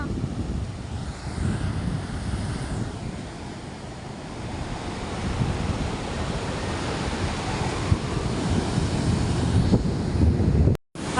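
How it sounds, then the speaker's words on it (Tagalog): Gusty wind buffeting the microphone on a beach over the heavy, continuous crash and wash of rough sea waves, loud and close, ending in a sudden cut. "Ang lakas pa ng hangin. Grabe. Ang susungit po ng dagat."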